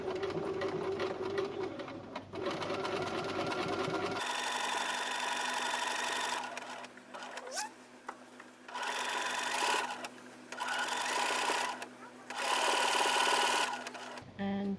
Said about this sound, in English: Lift my foot up so that I can stitch through that same stitching line.